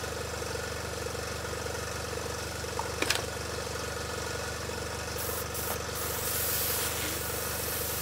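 A Sparmax Max-3 airbrush fed by an AC66HX compressor sprays pre-mixed, thinned paint, giving a continuous airy hiss over a constant motor hum, with a few faint clicks partway through.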